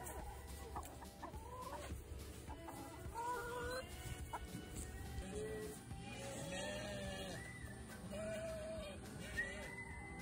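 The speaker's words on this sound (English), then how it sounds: "Look out, chicken." Chickens cluck repeatedly at a distance, overlapping soft clucks and squawks over a quiet sheep-farm background.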